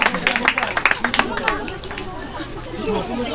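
A group of schoolchildren at a school sponsorship event in Camarines Sur, Philippines, laughing and clapping together in quick, uneven bursts, with lively chatter and voices mixed in close by.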